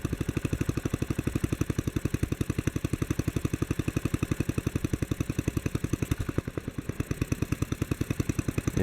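A 1957 Bolens engine idles with a steady, rapid thumping beat while its idle screw is adjusted, the rhythm holding close and even with a brief dip in the firing near the end.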